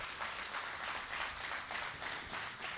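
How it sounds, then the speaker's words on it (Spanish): A congregation claps during a revival service, a soft, fairly distant continuous patter of hands that swells and eases slightly over a few seconds. "Un aplauso al Señor por eso."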